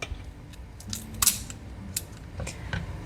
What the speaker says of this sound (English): I actually like to use my kitchen scissors to kind of prep it